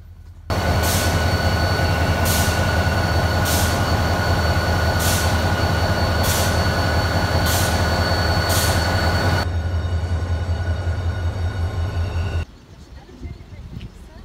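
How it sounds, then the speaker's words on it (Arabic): Old-style tram in Sidi Bel Abbes, heard from inside as a loud steady rumble with rhythmic wheel clacks over rail joints and a high squeal, then a sudden drop to quieter ambience near the end. "دخلنا لداخل القطار هذا تاع كيما تاع زمان، هذوك اللي كنا نروحوا فيهم"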